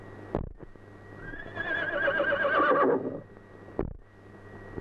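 A horse gives one loud, drawn-out whinny that rises and wavers for about two seconds, framed by a couple of sharp hoof knocks.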